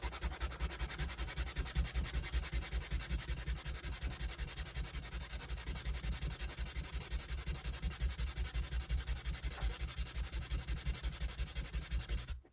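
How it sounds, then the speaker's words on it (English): Rapid, even back-and-forth strokes of hand sanding on wood scratch steadily and close up for several seconds, then stop abruptly. "I'm probably just going to have to do a little bit of sanding."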